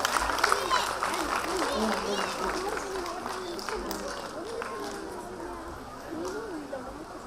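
Audience applause at a women's day event: a steady, fairly faint patter of many hands clapping together, with voices talking over it.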